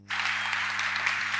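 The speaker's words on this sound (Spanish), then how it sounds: "Les vamos a hacer un fuerte aplauso" Church audience applauding the pastors at a parents' meeting, clapping that starts abruptly after a brief silence and holds steady, moderately loud over a constant low electrical hum.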